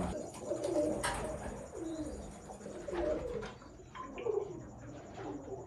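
Ali-line breeder pigeons coo in soft, repeated throaty phrases, fairly close and low in level, with a light background hum and no clear speech.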